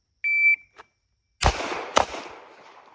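Two handgun shots fired in quick succession after a draw from the holster on a training range, sharp loud cracks about half a second apart, preceded by a brief electronic shot-timer beep.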